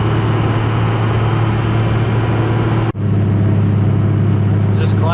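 A Cummins diesel pickup's engine drones steadily as the truck climbs a slight hill, loud and close inside the cab, with a brief dip partway through before the hum resumes.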